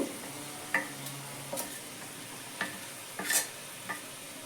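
Spice powders (hot chilli, Kashmiri chilli and turmeric) stirred and fried in oil for a Bengali bhangan fish curry, a soft sizzle under a few sharp spoon scrapes and clicks against the pan, fairly quiet and close.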